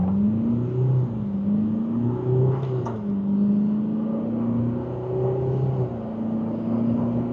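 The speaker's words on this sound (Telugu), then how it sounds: "ఒకసారి మనం 0 to 100 స్టార్ట్ చేసేద్దాం" An MG Majestor SUV accelerates from 0 to 100 km/h, with its engine heard from inside the cabin as a steady drone that rises and falls through gear changes, with a brief whoosh partway through.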